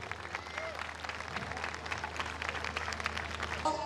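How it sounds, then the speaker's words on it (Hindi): A church audience gives loud applause to welcome a pastor to the stage, with dense, continuous clapping from a crowd filling the room and holding steady throughout. "मैं आपकी पहले जोरदार तालियों में पास्टर अनिल को दावत दूंगी कि वो स्टेज पर आए"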